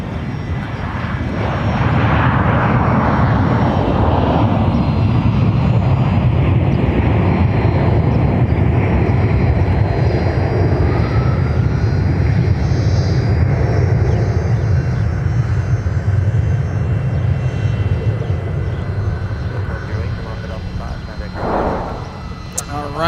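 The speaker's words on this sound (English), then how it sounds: "Delta A321 arrival from Orlando, Florida" Delta Airbus A321 airliner arriving at MSP airport from Orlando, Florida: a loud, steady jet roar that fills the whole stretch and fades slightly near the end, with voices talking underneath.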